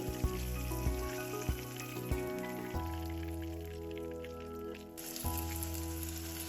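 Chicken wings frying in a pan over medium heat, browning for a restaurant-style sweet and sour dish; a steady close sizzle runs throughout with occasional sharp pops and spatters, and no voices.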